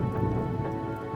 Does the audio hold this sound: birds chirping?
no